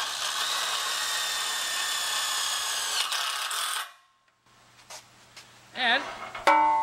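A power drill driving a screw overhead whirs steadily for several seconds, stops abruptly, then short bursts and a brief rising whine follow amid quiet.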